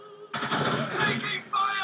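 Gunfire in the PlayStation 2 game Rainbow Six 3, a short burst of rapid shots with a radio-style voice call-out in the game.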